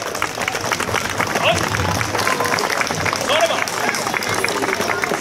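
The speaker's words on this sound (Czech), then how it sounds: "Takže ještě jednou velký potlesk." Hearty applause from a crowd of families at a school's family-day event, continuous clapping for several seconds with chatter and voices mixed in.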